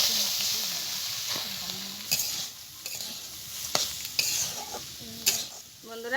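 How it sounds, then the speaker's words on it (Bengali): Soaked Gobindobhog rice and mung dal fry together in a hot pan, sizzling throughout while repeated spatula scrapes and stirs come up loud and close in irregular bursts. "এবার চাল আর ডালটা আমি একসঙ্গে একটু ভেজে নেব।"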